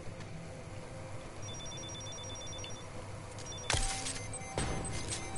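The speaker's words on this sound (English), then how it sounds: "that just sets an alarm off" An alarm goes off in the Deus Ex: Mankind Divided video game, a thin steady electronic tone over busy background noise, followed by loud sudden clattering bursts.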